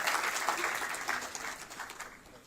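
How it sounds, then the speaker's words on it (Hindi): A crowd applauds loudly at a book release event for Sharad Pawar's biography, a dense sustained patter of many hands that slowly tapers off. "जोरदार तालियों की गड़गड़ाहट में"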